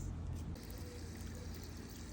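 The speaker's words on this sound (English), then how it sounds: "So we have water, cold water" Water runs from the tap of an outdoor sink in a short, steady, fairly quiet pour with no talk.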